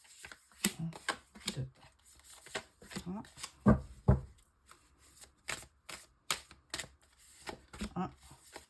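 Tarot cards being shuffled by hand close up, a rapid series of crisp riffling flicks and slaps in uneven bursts, with a French-speaking voice talking over parts of it.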